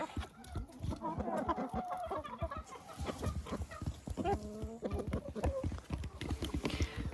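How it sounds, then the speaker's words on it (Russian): Backyard hens clucking and cackling in repeated bursts, close by, while being fed moldy bread at a country dacha; short pecking knocks and a few louder calls mix in throughout. "Вот хлеб с плесенью я даю своим курочкам."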